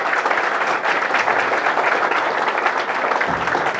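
Teachers applauding at a school gathering, a dense, sustained burst of many hands clapping together, loud and steady throughout with no speech.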